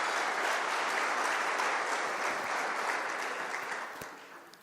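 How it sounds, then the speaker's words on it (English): Warm applause from a technology conference audience for a sponsor, a thick, even wash of clapping that stays full for several seconds and then gradually fades out. "we can give her a warm round of applause"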